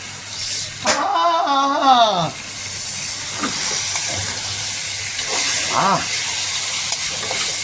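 Food sautéing in a hot pan gives a steady broadband sizzle and hiss, close and constant, while a person speaks over it and a few short clinks sound in between.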